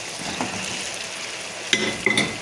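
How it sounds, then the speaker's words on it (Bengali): Pre-fried chicken goes into a pan of masala gravy, giving a steady low sizzle with stirring scrapes and a couple of sharp metallic clinks near the end, close and moderately loud, no voices. "এখন আমি এখানে চিকেনটা অ্যাড করে দেবো।"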